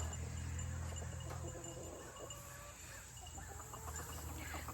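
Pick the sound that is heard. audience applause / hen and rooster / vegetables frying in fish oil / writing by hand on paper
hen and rooster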